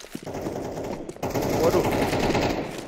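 Rapid machine-gun fire rattles continuously in a first-person shooter match, loud and close, with a player's brief exclamation over the shots.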